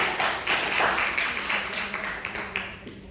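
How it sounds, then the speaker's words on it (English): Seminar audience clapping for a presenter: a modest group of hands patting unevenly, rather quiet in a room, with the sharp claps thinning out toward the end. "Please clap for her."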